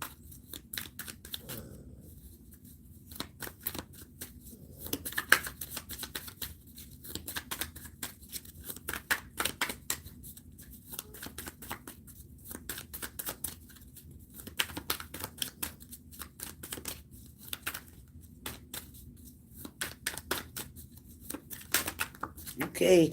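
Tarot cards being shuffled before a single card is drawn: quick papery riffles and flutters in repeated bursts over about twenty seconds, fairly close, with some talking underneath.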